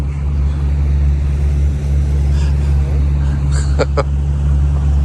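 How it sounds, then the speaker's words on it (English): A motorboat's steady engine drone with a low hum rumbles continuously over rushing water, with a faint voice briefly audible. "now we're out here on some sort of boat in the water"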